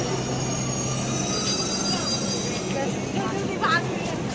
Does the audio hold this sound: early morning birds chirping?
no